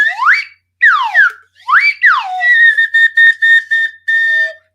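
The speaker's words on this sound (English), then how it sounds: "You can use your holy slide whistle" A slide whistle plays several bright swoops, rising and falling glides, then a run of short repeated level toots. It sounds close and loud, alone with silent gaps between phrases.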